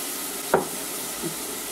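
Chopped tomatoes sizzle in a hot pan, a steady, fairly loud frying hiss with a brief stir or clatter near the start and a softer bump later, with no voices.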